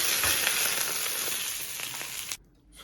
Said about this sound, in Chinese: 我们再用小火慢煎，给它煎至底部焦脆就可以了